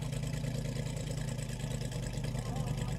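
A land speed racing car engine drones steadily at a distance, a continuous low rumble with rough pulsing texture under crowd ambience, holding an even level throughout.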